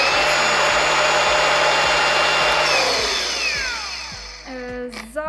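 A Denzel BLG-IB-18-02 cordless angle grinder runs with a loud, steady high-pitched motor whine and hum, then winds down and fades, ending with a faint click.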